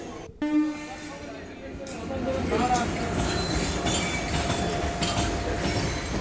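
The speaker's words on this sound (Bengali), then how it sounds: "সকাল 10টায় শিলিগুড়ি থেকে টয় ট্রেন ছাড়বে।" The Siliguri–Darjeeling toy train running, with rumbling wheels and squealing rail noise rising into a steady roar, heard under a voice talking.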